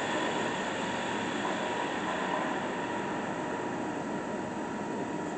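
A Monarch 10EE precision toolroom lathe spindle slowing down, heard as a steady, close, broadband mechanical whir and hum that holds fairly even and eases slightly toward the end. No talking.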